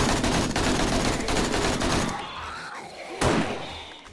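Rapid AK rifle gunfire during a zombie horde night in 7 Days to Die, a dense continuous burst of shots that cuts off, followed by a single loud crack near the end.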